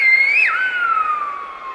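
A loud, musical traditional human whistle of the kind used to send messages over long distances, one sustained tone that bends upward, then drops sharply and glides slowly lower, heard alone and clear.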